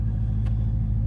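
Idling twin-turbo 5.7-litre Dodge Charger engine, a steady deep low rumble held close and loud with no change in pitch, a brief hiss breaking through midway.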